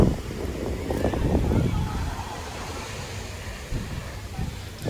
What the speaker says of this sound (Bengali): এত সুন্দর একটা ঠান্ডা হাওয়া দিচ্ছে